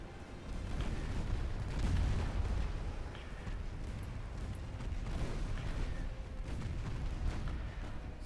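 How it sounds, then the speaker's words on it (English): Naval secondary guns in Ultimate Admiral Dreadnoughts firing at a destroyer: distant rumbling booms and muffled thuds over a continuous low battle roar, faint and without talk. "Really like for the secondaries to keep firing at the light or at the destroyer"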